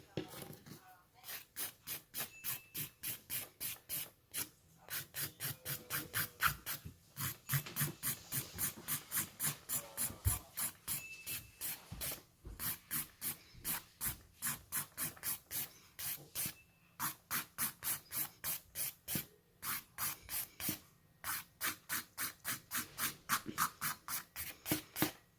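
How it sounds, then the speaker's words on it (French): A hand file rasps across a workpiece in steady, closely spaced back-and-forth strokes, a long regular run of scraping pulses with brief pauses, close and fairly quiet. "Moi, je pense que je peux encore limer un peu."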